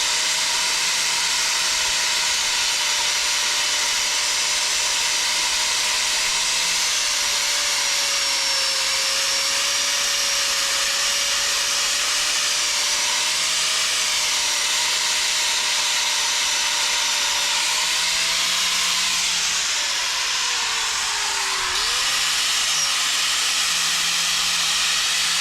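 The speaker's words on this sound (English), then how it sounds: "Just using the grinder." A power grinder works on the seat of a 1999 GMC Sierra pickup, giving a loud, steady high whine with a hissing edge that holds close and continuous, its pitch dipping briefly near the end as the load changes.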